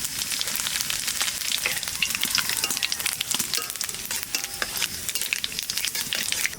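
Cumin seeds, dried red chillies and bay leaves frying in hot mustard oil for a mutton curry, giving a steady, close crackling sizzle with bright spattering pops and occasional stirring, no voices.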